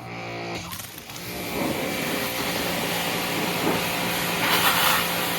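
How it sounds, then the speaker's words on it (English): A pressure washer blasts off buildup with a loud, continuous hissing spray that holds steady throughout, swelling slightly near the end. "Pressure washer's getting it done in no time, eating right through the buildup."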